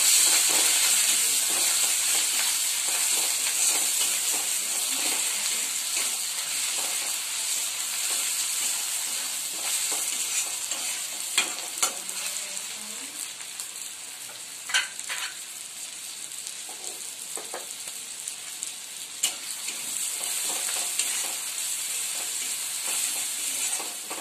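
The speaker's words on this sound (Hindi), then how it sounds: "आमे आगरू काटी रखी टमाटो को पकेइबा। फ्राए करिबा।" Chopped tomatoes frying in a pan for a mustard fish dish, a steady loud sizzle and hiss with occasional crackles and scraping stirs, continuous for the whole stretch with no talking.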